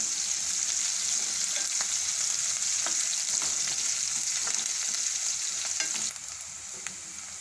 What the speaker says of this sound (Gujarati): આપણે કડીક તેલમાં ડુંગળી આ રીતે ચડવા દીધી હતી સરસ